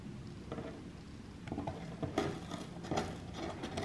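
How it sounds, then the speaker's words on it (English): Rustling, scratching and thumping of a cat scrabbling around inside a cardboard box, irregular bursts close by, no talking. "I'm sorry for the noise. It's Clyde playing in the box"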